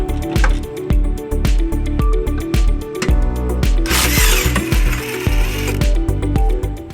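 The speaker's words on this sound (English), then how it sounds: "We're gonna remove these two bolts using a" An impact tool spins a 14mm socket to back out the tow loop bolts on a 2004 Toyota Highlander, giving loud, clattering bursts with short pauses between them, close up.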